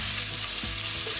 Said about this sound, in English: All you do is just throw in the tomatoes